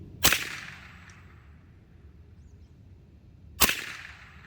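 Two sharp, loud shots from a Taipan Slash semi-auto PCP air rifle crack about three seconds apart, each a sudden snap that fades quickly into quiet.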